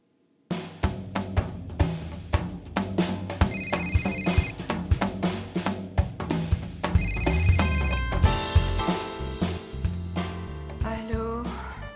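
A telephone rings in a home in the middle of the night, repeating its electronic ringtone in regular bursts that grow denser and louder toward the end.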